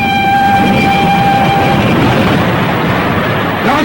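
A train rolls past with a loud, continuous rumble and clatter, and a steady whistle tone sounds over the first half before fading into the roar. No voices are heard.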